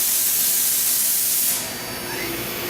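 A loud, steady high-pitched whine and hiss from a machine spindle spinning up from 2500 to 3500 RPM, easing slightly partway through, with no voices.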